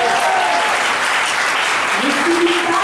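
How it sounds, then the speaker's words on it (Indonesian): Seminar audience in Pekanbaru clapping loudly, a thick, sustained burst of applause at a constant level, with a faint voice briefly coming through underneath toward the end. "wah, kurang kuat tepuk tangannya"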